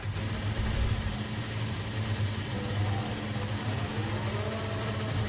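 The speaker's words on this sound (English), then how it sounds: "I swear they make the engine sound so loud in the garage." A Formula 1 car engine rumbles in the garage in an F1 racing game, giving a loud, steady low drone that runs throughout with no voices.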